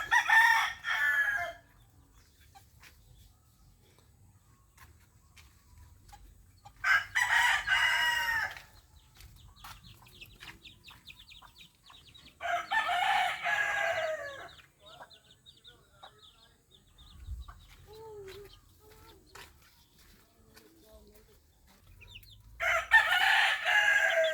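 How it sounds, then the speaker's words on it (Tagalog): Young roosters (stags) crow in several long, loud calls spaced several seconds apart, with quieter clucking and faint farmyard noise between them, on a hot day in a shaded spot. "Iba kong manok nandito sa likod."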